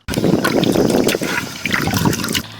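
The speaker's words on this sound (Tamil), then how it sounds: "புளியை நல்லா கரைச்சி எடுத்துக்கலாம்" Tamarind is squeezed and dissolved by hand in water for a village-style dry fish curry, giving close, wet squelching and sloshing in short bursts over a few seconds.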